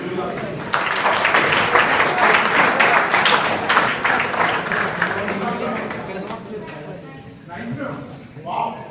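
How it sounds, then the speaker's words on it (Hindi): Students at a school event applaud in a loud, sustained wave of dense clapping that fades gradually after several seconds, with a voice speaking faintly at the end. "ताली बजाओ के लिए"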